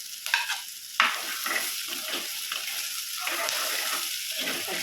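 Green chilies sautéing in a hot pan, a steady close sizzle with a spoon scraping and stirring through them, a couple of sharp clinks at the start, no voices.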